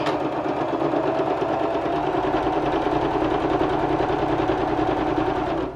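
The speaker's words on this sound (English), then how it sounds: "I'm going to start stitching with my sewing machine" A sewing machine stitching a fabric face mask runs steadily and continuously up close, its rapid mechanical stitching rhythm buzzing without pause for several seconds.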